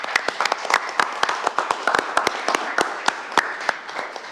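Scattered applause at a North Little Rock City Council meeting: a small group's sharp, uneven claps ring out fairly close, with no speech over them.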